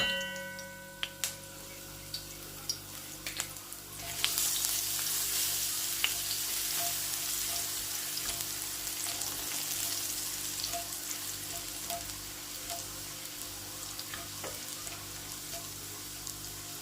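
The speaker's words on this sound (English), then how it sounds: "We're gonna fry garlic for about 1 minute before adding" Garlic hits hot oil with a sharp onset, then fries in a steady, loud sizzle that holds without a break, a few light clicks early on and no voices.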